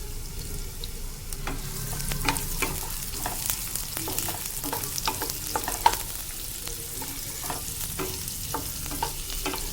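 Chopped onion sizzles in hot oil, with frequent sharp scrapes and clicks from a spatula stirring the pan, close and continuous, without talk.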